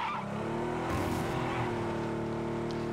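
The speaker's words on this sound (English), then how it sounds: "I do hear the glider" A glider's engine in the video game PUBG drones steadily throughout, with a brief surge of rougher noise near the start, loud and close with no talking.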